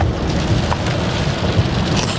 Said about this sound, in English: rainy conditions, and proceeding apace down south